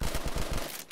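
An AA-12 automatic shotgun fires in Call of Duty Black Ops 3 custom zombies on a Walking Dead forest barn map, sending a rapid, loud burst of about six booming shots close up before trailing off.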